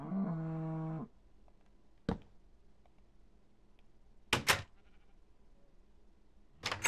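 A Minecraft cow lets out one loud, drawn-out moo at the start, followed by a few sharp clicks and knocks from the game with quiet gaps between them.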